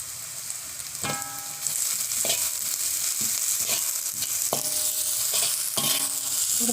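Onions frying with salt and curry leaves, stirred in a pan for an aloo paratha filling: a steady sizzle runs throughout, with repeated scraping stirs and light clinks of the utensil against the pan.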